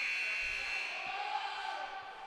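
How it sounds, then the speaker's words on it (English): A steady electronic buzzer sounds inside a hockey arena during a freshman championship game, a continuous, loud droning tone that holds for the full length and fades slightly at the end, with faint crowd noise underneath. "with the buzzer sounding off inside the facility"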